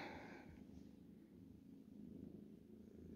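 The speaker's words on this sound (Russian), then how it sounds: "У меня сегодня прям двойное мурчание." A cat purrs close by, a soft low rumbling drone that continues steadily for a few seconds, quiet and with no one talking.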